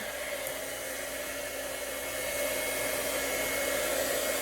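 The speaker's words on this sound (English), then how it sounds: "So we've got our heat gun plugged in" A steady, loud heat gun roar with a whirring high hiss, running continuously without pause and swelling slightly louder partway through.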